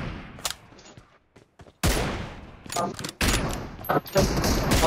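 Bursts of gunfire in the mobile battle game PUBG Mobile during an M24 team deathmatch, loud sharp shots and rapid volleys after a quiet stretch, with some voice chatter mixed in.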